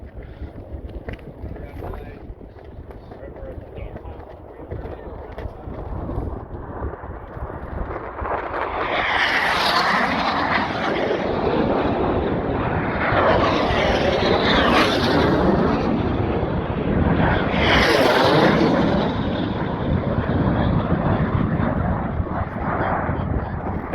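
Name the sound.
racing jets passing the home pylon at Reno air race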